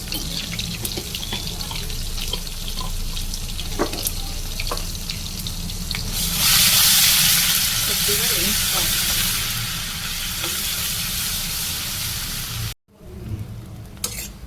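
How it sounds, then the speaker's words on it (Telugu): A ginger-garlic paste fries in masala for a paneer curry with a loud, continuous sizzle and hiss that swells partway through, brief stirring knocks, then a sudden cut before the sizzle resumes. "అదే మసాలాలో ఈ పేస్ట్ వేసుకొని కొద్దిసేపు వేయించుకోవాలి"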